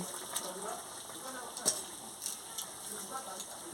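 Okra and silver carp pieces sizzling in a hot pan for a sour amchur fish curry, a crackling spitting fry with scattered pops, close up under a steady hiss.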